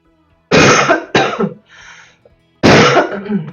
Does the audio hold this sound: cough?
yes